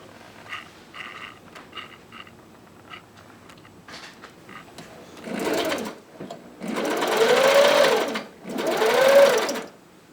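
A Necchi Lydia 3 domestic sewing machine stitches a quarter-inch seam, with brief mechanical clicks and handling first, then two loud, close bursts of steady whirring motor and needle chatter separated by a short pause.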